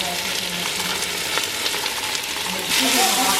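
Chunks of meat fry with browned onions and turmeric in a pan, giving a steady, close hiss of sizzling grease with occasional stirring scrapes and a brief surge in intensity near the end.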